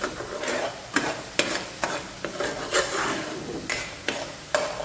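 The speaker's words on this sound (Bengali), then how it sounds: "আর এই পালকটাকে এখন আমি 3 থেকে 4 মিনিটের মতন ভালো করে ভুনে নেব।" Spinach (palak) sizzles in a pan as a spoon stirs it, with sharp irregular scraping knocks over a soft, steady frying hiss.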